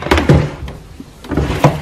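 A deep freezer's bottom drawer being pulled open in a home kitchen, giving a few close plastic thunks and a short sliding scrape, loud and with no talk over it.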